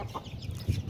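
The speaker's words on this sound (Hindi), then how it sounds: "देखें माशाल्लाह मुर्गी अपने बच्चों को किस तरह खिला रही है।" A hen clucks softly and close by while feeding her chicks, a few low, short clucks set against a quiet outdoor background.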